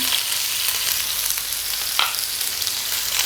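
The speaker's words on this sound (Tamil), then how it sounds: "அடுத்ததாக பச்சை மிளகாய், அடுத்ததாக நம்ம கட் பண்ணி வச்சுருக்கிற வெங்காயம்" Urad dal, green chilli and chopped onion are sautéed in hot oil with a steady, loud, close sizzle and a brief stir near the middle, with no voices.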